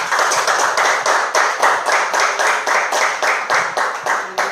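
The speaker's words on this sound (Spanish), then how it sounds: "¿Quién le da un aplauso al Señor?" A church congregation claps in unison during a sermon, loud and rhythmic, with about fifteen evenly spaced beats, a little over three per second, coming close and clear.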